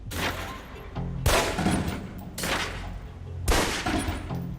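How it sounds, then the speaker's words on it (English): Pistol fire at a shooting-range target in Alpha Protocol, with four sharp, loud shots spaced roughly a second apart. Each crack is followed by a brief ringing decay, and a low background hum sits between the shots. "Equip the pistol, then aim down range and take some shots at the target"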